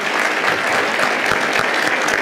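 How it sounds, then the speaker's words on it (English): Audience applause at a welcome address in a Hilton hotel ballroom in New York City, steady dense clapping from a large crowd that fills the whole stretch at an even level with no voices. "Yes, I think we can applaud that."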